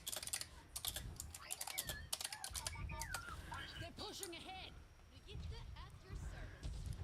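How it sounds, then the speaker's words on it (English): Fast, uneven clatter of computer keyboard typing during an Overwatch gaming session, rapid bursts of key clicks mixed with game sound effects and chirps in the background. "Oh my god, don't judge me in my terrible typing."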